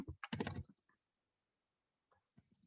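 Someone types a command on a computer keyboard, a quick burst of clattering keystrokes at the start followed by silence and a few scattered soft clicks near the end.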